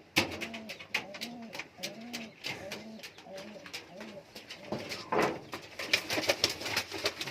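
Loton fancy pigeons coo in a loft, a run of repeated rolling, throaty calls up close, joined by scattered clicks and flutter-like clatter toward the end.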